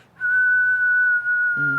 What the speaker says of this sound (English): Common Scoter Drake's whistle.